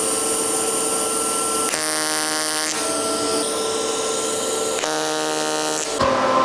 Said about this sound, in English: I'm going to go ahead and weld that drain bung on